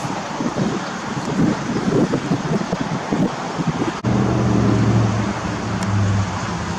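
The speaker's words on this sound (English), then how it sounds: "Another windy day." Strong wind in Rio Grande City, Texas, buffets the microphone with loud, rumbling gusts, then settles into a steadier roar with a low hum underneath.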